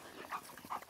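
A dog whimpers during a fetch game with a toy. Two short, high whining yelps come close together in a quiet moment, with no voice.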